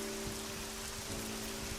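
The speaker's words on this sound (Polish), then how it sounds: "Pada deszcz." Steady rain falls in the video game Memento Mori, a constant soft hiss of drops on a surface with a low tonal hum beneath, faint and unbroken, with no speech.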